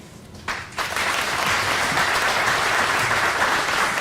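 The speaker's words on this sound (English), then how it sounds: "so I'll list them off and ask for a round of applause." A crowd breaks into loud, sustained applause at an outdoor groundbreaking ceremony for Syngenta in Greensboro, the clapping swelling quickly after a quieter moment and holding steady, dense and close, with no talk over it.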